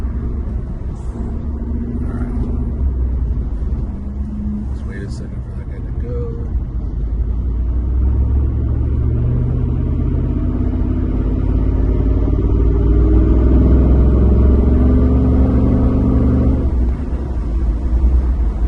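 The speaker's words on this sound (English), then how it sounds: "this is probably one of the best sounding exhausts for the Raptor." A 2012 Ford Raptor with a Corsa Extreme exhaust drives along, its deep exhaust rumble building and swelling steadily under brief talk from inside the truck.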